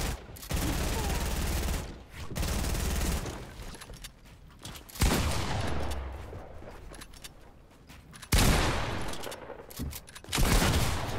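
Gunfire in an online video game on Oceania servers, with dense bursts of rapid loud shots alternating with quieter gaps and brief pauses.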